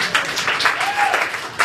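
A comedy club audience at Stand Up NY in New York breaks into brief, dense applause, a loud wash of clapping close by.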